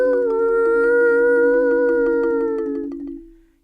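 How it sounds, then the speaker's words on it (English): A coyote howls in the night: one long, steady, tonal cry held for about three seconds with a faint pulsing texture, then trailing off. No one speaks. "when you hear a coyote crying in the middle of the night"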